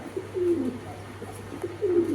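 A male saddle racer pigeon coos softly twice, low throaty calls with a short pause between them, against quiet background noise.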